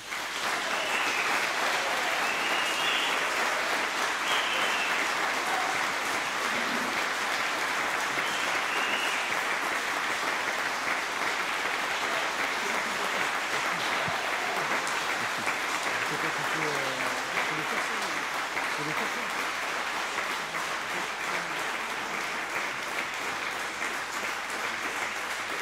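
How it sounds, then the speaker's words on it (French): Municipal council members in Saint-Vincent-de-Tyrosse applaud after a mayor's election, a long, even wash of clapping lasting the whole stretch at a modest, somewhat distant level. "Merci pour vos applaudissements"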